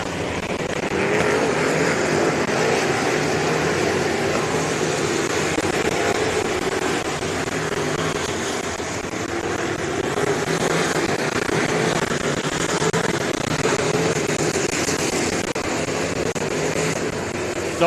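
Pack of race cars roaring around a figure 8 track during a three-hour championship race, a dense, continuous wall of engine noise with passing surges, heard from trackside.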